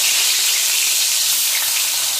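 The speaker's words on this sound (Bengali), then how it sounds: "এখন মাছগুলো ভেজে নেব। এক একটা করে মাছ দিয়ে দেবো তেল।" Bata fish pieces rubbed with salt and turmeric go into hot oil, making a loud, close, continuous hissing sizzle with no voices.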